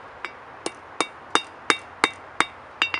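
A hammer strikes hot iron on an anvil during the forging of a leaf, eight sharp ringing blows in a steady, slightly quickening rhythm, close and loud with no talk.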